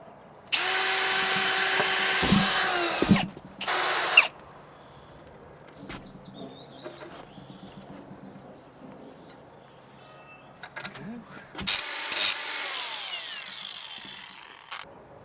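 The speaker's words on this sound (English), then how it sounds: "The drill bit that I used was 12mm and the bolts are 10" A power drill bores holes in timber with a 12mm bit for a trestle timber frame, two loud whirring bursts early and another near the end, with quiet outdoor pauses between.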